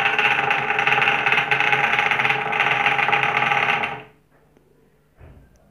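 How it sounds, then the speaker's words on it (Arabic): A small electric motor controlled by a remote runs with a steady, buzzing whir, then cuts off abruptly after about four seconds, followed by near silence and one brief faint bump. "والآن سوف نقوم بتشغيل المحرك"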